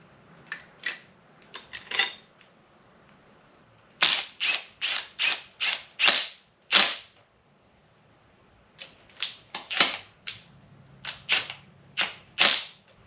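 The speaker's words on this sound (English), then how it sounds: "Put the rocker arms on." Rocker arms going onto an LS 6.0 engine during assembly, with rapid bursts of sharp metallic clicks like a ratchet wrench, in quick clusters separated by short pauses, close and crisp, with no talking.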